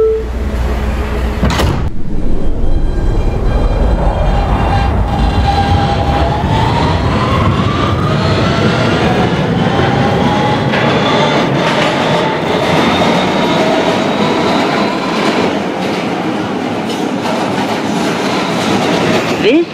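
An R160B Siemens subway train on the BMT Broadway Line in a Roblox game starts from a stop, a sharp door thud giving way to a rising motor whine and steady rumbling clatter that continues loud and unbroken.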